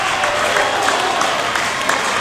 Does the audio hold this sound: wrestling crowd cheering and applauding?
yes